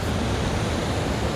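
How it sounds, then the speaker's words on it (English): Fast river water flows heavily at about 15,000 cubic feet per second, a dense, steady, loud rushing roar with no talk. "Still a lot of water moving."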